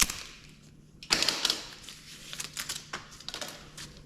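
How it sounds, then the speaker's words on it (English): Strap being cut off a new rear shock absorber for a 2011 Ford Fiesta sedan: a sharp snip followed by a string of small clicking, rattling handling noises, close and fairly quiet. "First, I'm just going to cut the strap off."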